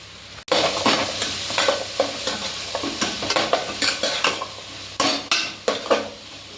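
Chopped ridge gourd sizzles and fries in a hot pan while a spoon or spatula stirs it, giving repeated scraping, clattering strokes against the metal over a steady sizzle, close and fairly loud with no talk.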